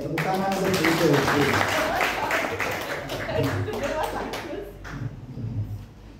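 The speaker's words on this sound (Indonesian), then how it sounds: "tepuk tangan untuk Ibu" Applause from an audience at a school principal's performance observation meeting in a high school, steady clapping throughout with voices mixed in, fading toward the end.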